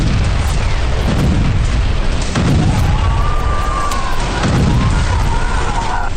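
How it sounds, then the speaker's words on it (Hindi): Repeated blasts from strikes in Syria boom out one after another, dense low rumbling bursts layered over a constant roar with a faint high whine, loud and continuous without speech. "एक के बाद एक होते ये धमाके।"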